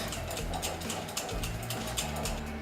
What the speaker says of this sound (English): we're going to start off by just whisking in the icing sugar